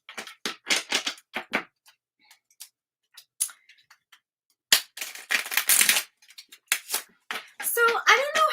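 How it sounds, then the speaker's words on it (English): A deck of tarot cards is shuffled in quick bursts of crisp, close riffling and ticking card snaps, broken by pauses, with someone talking in between. "I'm going to shuffle the deck"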